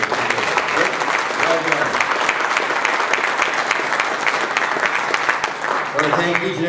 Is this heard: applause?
yes